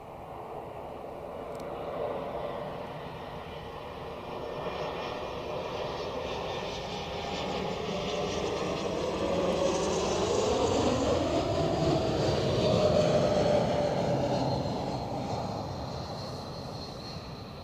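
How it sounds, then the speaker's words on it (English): A Swiss Airbus A220 arriving from Budapest lands at Zurich Airport, its jet engine roar swelling loudly and steadily with a whining tone sweeping across it, then easing off at the end. "we have another A220 landing of Swiss from Budapest"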